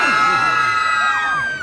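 A street busking crowd in Sinchon lets out a loud, drawn-out collective "oh" shout, a sustained mass of voices with rising and falling cheers rather than distinct claps.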